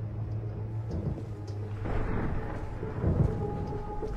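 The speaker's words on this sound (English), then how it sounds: "It's starting to storm" Low rolling thunder from a storm rumbles through a quiet indoor scene, moderately loud with a heavier swell midway and another deep rumble near the end.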